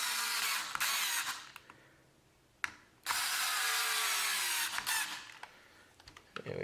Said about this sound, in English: And then we'll go ahead and we'll tighten these down.